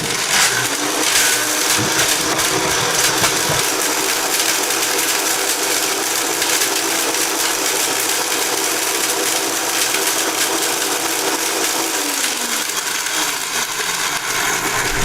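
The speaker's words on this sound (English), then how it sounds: "I'll bet most of you have never used the Vitamix blender for something like this before" A powerful Vitamix blender powdering dried herbs roars continuously at high speed, a loud dense whir with gritty grinding, steady from start to finish with no talking.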